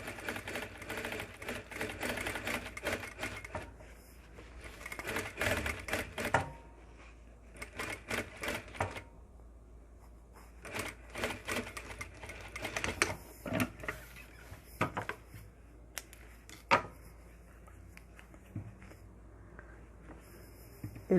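Sewing machine stitching a tailored jacket, bursts of rapid mechanical clatter separated by quieter pauses and handling noises, close and fairly loud with no talking.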